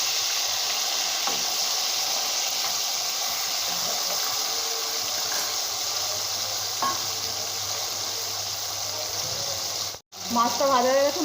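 Rohu fish fries in hot oil in a kadai, giving a steady soft sizzle. A brief cut near the end is followed by a few faint clinks.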